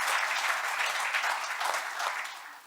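An audience at a business event bursts into sustained applause, a dense wash of many hands clapping close and loud, steady for most of the stretch before easing slightly toward the end.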